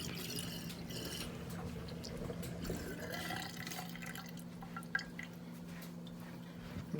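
Water trickles and splashes in a kitchen sink while neck bones are rinsed, giving a soft, continuous run of drips and small squishy splashes under a faint steady hum.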